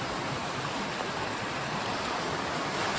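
A river rushes steadily at a hiking trail crossing in Vermont, a dense, continuous broadband roar of flowing water, loud and close, with no voices.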